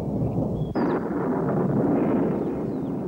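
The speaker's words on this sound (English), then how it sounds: "the rain clouds build up, the lightning flashes" A deep, rolling rumble of thunder in Southwest Africa starts with a sudden crack and growls on steadily, loud and low.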